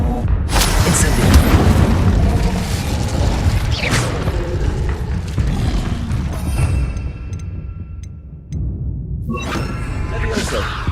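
Incendio fire spell cast in the Hogwarts Legacy video game, a loud whooshing burst with booming, mechanical crackle layered over dense game effects and other spell sounds.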